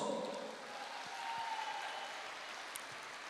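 Audience applause at a celebration, a steady wash of clapping from a crowd that holds an even level for several seconds without letting up.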